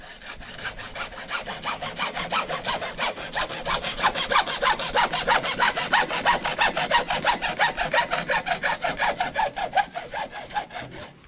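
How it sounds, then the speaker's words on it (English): A hacksaw with a five-inch throat cuts through a downspout drain pipe in fast, even back-and-forth strokes. The rasping is close and steady, with no talk. "make sure that you've got a hacksaw that is 4 inches, or actually this one's 5 inches between the blade and the bar"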